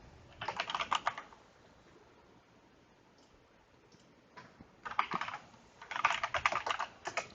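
Fast typing on a computer keyboard while naming an agent during software setup, in two bursts of rapid close key clicks separated by a quiet pause with a few isolated taps.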